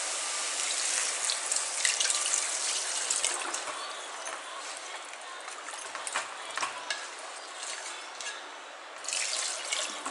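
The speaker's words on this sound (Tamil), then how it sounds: "இந்த ஸ்டேஜில் வந்து நம்ம தண்ணி ஆட் பண்ணிக்குவோம்." Water poured into a pot of goat rib bones for soup, a continuous splashing and gurgling stream with uneven surges, close and alone without talk.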